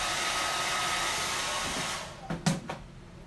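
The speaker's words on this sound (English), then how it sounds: "I don't want the blow dryer drying the paste inside the silk screen" A hair dryer blows steadily at close range drying chalk paste on a silk screen, its airy roar cutting out near the end, followed by a few soft knocks and handling sounds.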